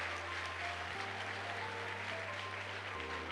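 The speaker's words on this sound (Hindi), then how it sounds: "Give a big round of applause for yourself. अपने लिए बहुत सारी तालियां।" Seminar audience applauding in a continuous, fairly quiet wash of many clapping hands, with a steady low hum underneath.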